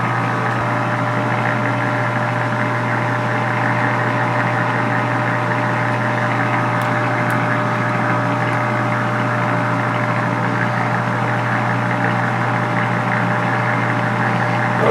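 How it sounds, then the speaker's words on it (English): A Grizzly G4003G metal lathe runs steadily in its slowest gear with the feed screw turning, giving a constant loud mechanical hum and drone with a faint whine and no pauses, and nobody talking. "Over here on this side right now, I've got the feed screw in and that's turning"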